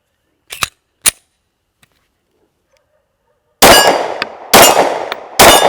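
Glock 19 pistol firing from a 33-round magazine, two small clicks followed by three loud sharp gunshots spaced about a second apart, each ringing out with a decaying tail.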